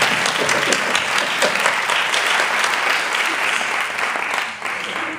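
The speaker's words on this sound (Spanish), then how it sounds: "Un aplauso" Dense, steady audience applause at a music festival talk in Valencia, a continuous wash of many hands clapping together at close range, holding level before dipping briefly near the end.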